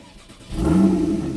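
A Porsche 981/991 engine cranks and fires into life after about half a second, settling into a loud, steady idle with a brief flare as it catches, close by and with no one talking.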